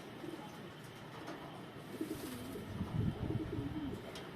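Racing pigeons coo softly at close range, their low, repeated calls growing a little fuller toward the end over a quiet background.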